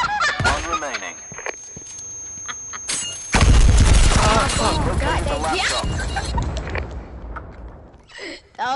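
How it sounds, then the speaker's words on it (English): A bomb goes off in a video game: a sudden loud blast that rumbles on for a few seconds, set among game noises and people talking. "That was one of Pixel's bombs right there."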